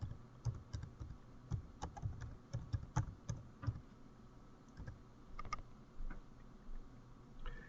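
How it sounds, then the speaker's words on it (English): Typing on a computer keyboard, a quiet run of quick irregular key clicks close by, alone with no talking. "Let's type in Corpus Christi."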